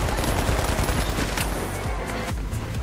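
Rapid gunfire in the first-person shooter The Finals, a dense loud barrage of overlapping shots and bursts running continuously from several weapons.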